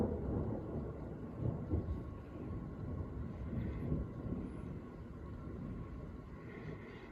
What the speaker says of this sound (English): We're just getting a little thunderstorm.